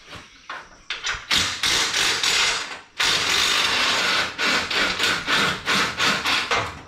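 A ratchet wrench works a nut loose on a car's front bumper, giving close, loud bursts of rapid clicking in irregular runs with short pauses between strokes.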